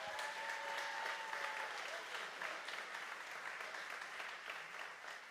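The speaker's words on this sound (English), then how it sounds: "Let's give them a big round of applause." Steady, full applause from an audience at an arts center performance fills the whole stretch, a dense wash of many hands clapping at a fairly even level, heard at some distance.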